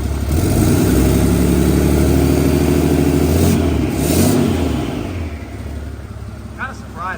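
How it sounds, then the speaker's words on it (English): A 6.7 diesel engine with a turbo and the exhaust disconnected right behind it, heard up close as a loud, steady low rumble with a brief swell in revs midway and faint chirps near the end. "kind of surprised at how quiet this engine is"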